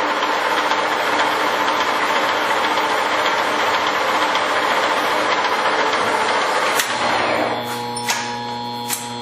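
Steady, loud mechanical drone of a Mori Seiki MS850 machine running under power, continuous for most of the clip, then winding down near the end as it is braked, leaving a quieter hum with a few clicks.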